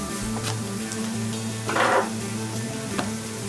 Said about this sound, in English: See how our onions are starting to brown nice?